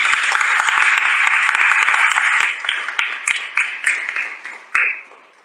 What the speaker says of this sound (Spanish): Por favor, un aplauso más para ti.